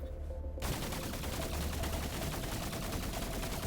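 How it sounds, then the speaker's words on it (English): SMG fire in a video game, bursting in after a short quiet moment and continuing as a dense, loud rapid stream of shots. "the SMG does look a little inaccurate there"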